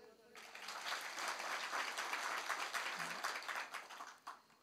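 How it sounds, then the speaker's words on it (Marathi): Men in an audience at a spoken discourse applaud together, a dense, steady burst of clapping that fills the room for several seconds before tapering off. "पुरुष मंडळी टाळी वाजवा बरं एकदा"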